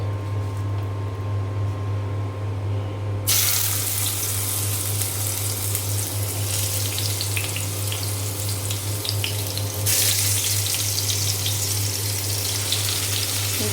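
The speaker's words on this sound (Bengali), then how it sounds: "কড়াইয়ে সরিষার তেল দিয়ে দিয়েছি। আমি এখন মাছ ভেজে নেব।" Hilsa fish frying in mustard oil in a wok: a steady low hum gives way to a loud, close, broad hissing sizzle that starts suddenly a few seconds in and carries on evenly, briefly swelling again near the end, with no voices.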